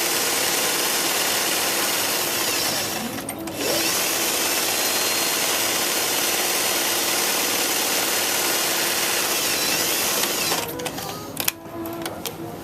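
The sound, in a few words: sewing machine stitching a half-inch pillowcase seam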